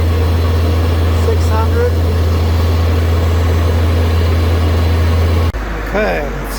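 A Chevy Duramax diesel truck engine idles with a steady low drone, loud and close, running continuously while a voice talks over it; near the end the tone drops as the engine settles lower.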